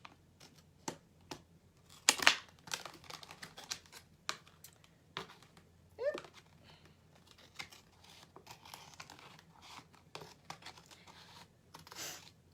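A plastic lunch meat container having its bottom cut off: a quiet series of irregular snips, crinkles and crackles of thin plastic, with one louder crunch near the start and no talking.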